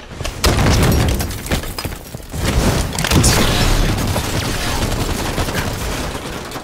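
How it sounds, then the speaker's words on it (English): A video-game grenade goes off with a heavy boom, followed by a dense stretch of rumbling blasts and crackling gunfire-like bursts that stay loud and continuous to the end. "Throwing grenade!"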